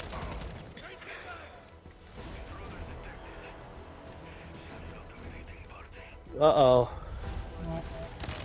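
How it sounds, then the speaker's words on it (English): Sentry guns firing in a Call of Duty Zombies match, rapid bursts of game gunfire and mechanical clatter under a player's voice, with one louder blast near the end. "There's a sentry gun in there, too."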